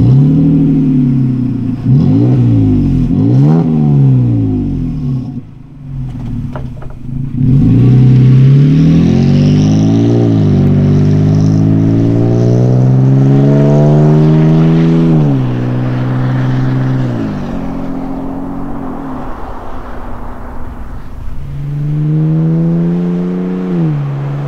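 A Toyota Tacoma pickup with an MBRP 3-inch single side exit cat-back exhaust revs hard over and over, its exhaust note rising and falling in loud, throaty bursts close by, with a brief drop near the middle.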